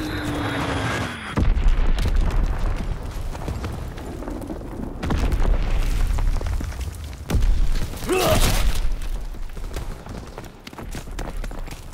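Wartime action in Call of Duty on Xbox One: rumbling engine and battlefield noise give way to one loud, sharp bomb blast near the end, with dull thuds and mechanical clatter around it.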